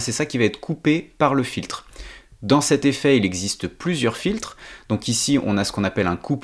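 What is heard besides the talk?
No distinct noise like a dog, phone or traffic.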